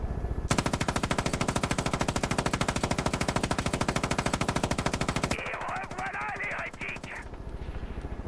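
A helicopter-mounted machine gun in Far Cry 5 fires in a long, rapid, unbroken burst for about five seconds, then cuts off. A voice follows over a lower, rumbling background.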